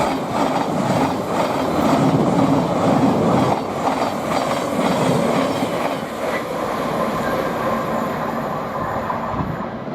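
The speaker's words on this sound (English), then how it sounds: "And the next train to pass by, we've got another Thameslink 700" A Thameslink Class 700 electric train rushes past at Potters Bar on the East Coast Main Line, a loud, sustained roar with rhythmic wheel clatter that eases slightly toward the end.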